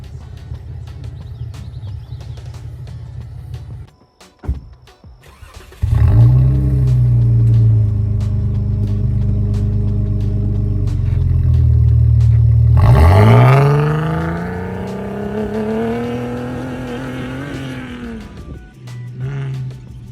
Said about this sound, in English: really loud distracting noise coming from my front drive shaft. A really loud clanking